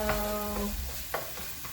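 Garlic sizzles on top of pork in a hot pan for a Hong Kong pork dish, a soft steady frying hiss with a few brief stirring scrapes and no talk.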